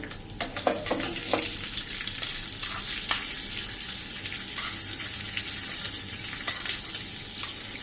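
Ingredients sautéing in a pan while preparing shrikhand, a loud steady frying hiss with scattered sharp clicks and scrapes from stirring, no voices over it.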